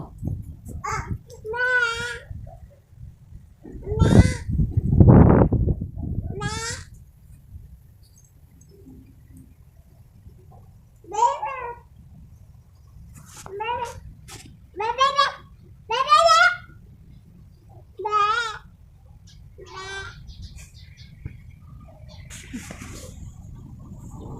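Several wavering, nasal bleats of a female goat being fed tree leaves come in short bursts with pauses, along with a low rumbling noise near the start.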